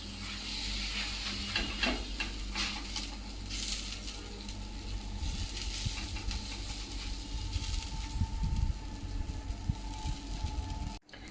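Water brushed onto a jowar roti on a hot griddle sets off a soft, steady sizzle and hiss of steam, faint and close, continuing without a break for several seconds.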